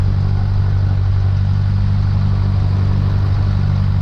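A small training airplane engine idling at about 1,000 RPM during a flight lesson, a loud, steady low drone with rhythmic clatter, close and continuous with no talk.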